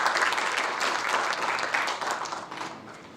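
A policy conference audience breaks into steady, moderately loud applause that holds briefly before tapering off slightly.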